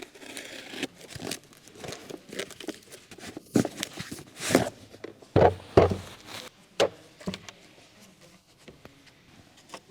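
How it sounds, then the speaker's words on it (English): A brake caliper bolt socket set being unboxed, with crinkling packaging, plastic clicks and a few sharp knocks as the case and sockets are handled up close, in irregular bursts and with no talking. "In this video, we are unboxing and demonstrating a brake caliper bolt socket set."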